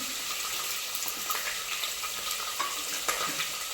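Chilli and onion hit hot oil in a pan for pea-and-paneer pulao, a close, steady hiss with small pops and light stirring scrapes throughout.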